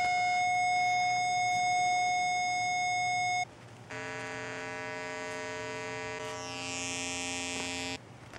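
A 555 timer pulse circuit drives a speaker with a steady electronic tone that holds for about three seconds, pauses briefly, then returns at a different, buzzier pitch and cuts off shortly before the end, with no talk.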